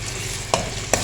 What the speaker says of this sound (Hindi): इसको थोड़ा सा फ्राई करेंगे 1 मिनट तक।